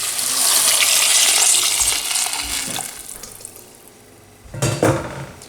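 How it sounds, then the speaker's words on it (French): Water poured over chopped zucchini, turnips and other vegetables in a cooking pot, a loud rushing splash that fills the first seconds, then eases, with a few clattering knocks near the end. "Et je vais arroser avec de l'eau"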